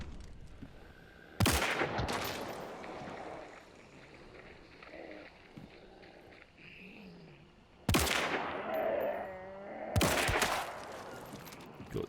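Vetterli Cyclone rifle fire in the video game Hunt: Showdown, three separate sharp loud shots spaced several seconds apart, each with a ringing echoing tail over quiet ambient background.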